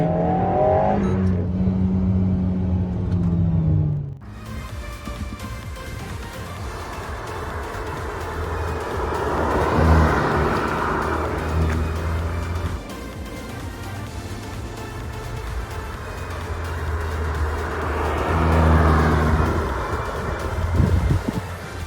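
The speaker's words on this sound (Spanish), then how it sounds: "Ahora con el pie frenado, aceleramos a fondo y ahora soltamos el freno." An Alpine A110 S in Track mode makes a full-throttle launch-control start, its engine rising in pitch through several gear changes as it pulls away, with wind rushing over the microphone.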